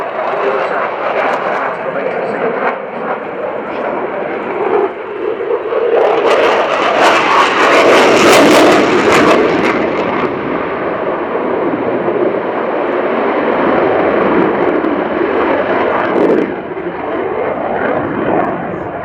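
Belgian Air Force F-16 jet flying at the RIAT airshow at Fairford: a loud jet roar that swells to a peak midway and then settles into a steady rumble, with a commentator talking over it.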